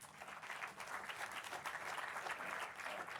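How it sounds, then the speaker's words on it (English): A conference audience gives a soft, steady round of applause for a sector panelist being introduced, the clapping distant and even throughout. "we'll give a round of applause"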